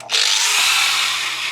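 A high, steady whirring hiss of a mini lathe taking a light cut off a flat metal disc, starting abruptly and holding constant, loud and close.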